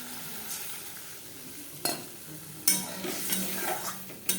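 Fish cooking in mustard paste in a pan makes a soft, close sizzle, broken by a few sharp scraping clinks from stirring, with no talking.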